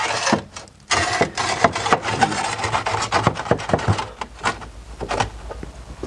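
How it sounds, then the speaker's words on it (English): A metal fire retainer scrapes and pushes embers aside across the floor of a wood-fired oven, giving a rough, repeated raspy scraping with short pauses between strokes. "I'm going to push them off to one side with the fire retainer."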